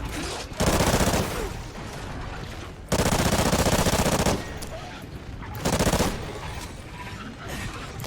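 Bursts of automatic gunfire in the Call of Duty video game, three loud sustained volleys separated by slightly quieter stretches of continued shooting and battle noise.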